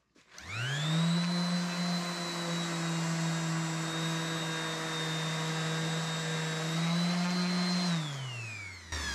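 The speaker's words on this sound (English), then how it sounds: "you can see where I'm sanding" A steady, loud electric power sander whine on epoxy-coated wood with 220-grit paper, a strong hum and high harmonics, running continuously for several seconds before spinning down at the end.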